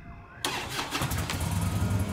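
A stolen motorcycle's engine cranks and catches in the Brazilian GTA-style game 171, an abrupt start settling into a steady mid-pitched idle with a slight rev.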